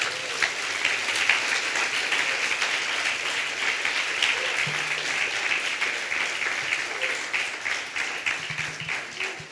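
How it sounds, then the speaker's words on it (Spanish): Church congregation applauding during a Spanish-language sermon, a steady, dense wash of clapping that holds loud and even for about ten seconds with no talk over it. "Denle un aplauso a Jesús, nuestro Señor."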